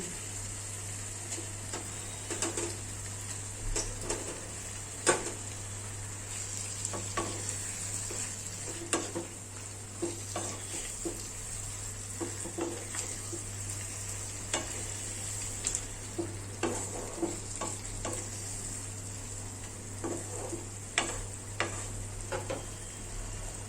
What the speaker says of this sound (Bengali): পুরো মশলাটা খুব ভালো করে কষানো হয়ে গেছে, এবার আমি এর মধ্যে ভাজা মাছগুলোকে দিয়ে দিচ্ছি।